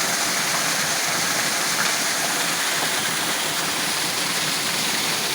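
India Tibisay waterfall at Chorros de Milla in Mérida, a steady broad roar of falling water, constant and enveloping without breaks.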